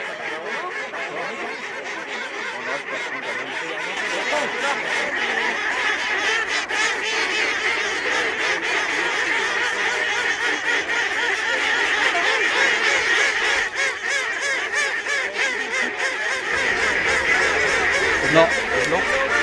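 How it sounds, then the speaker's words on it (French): Live decoy geese at a migratory bird fair in Cayeux-sur-Mer honk and cackle continuously, a dense overlapping chorus of many birds at close range with no clear pauses. "L'appelant est un oiseau qui permet d'attirer le canard ou l'oie sauvage."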